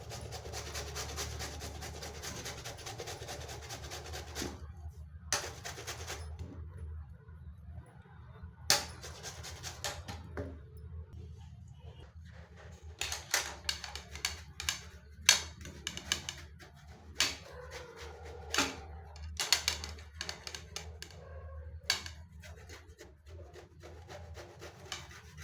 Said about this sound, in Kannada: ಸಿಪ್ಪೆ ತೆಗೆದು ತುರ್ಕೊಳ್ಳೋಣ ಇದನ್ನು